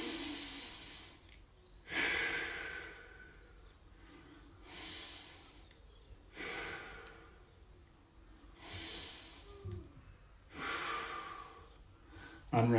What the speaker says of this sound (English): 3 conscious deep breaths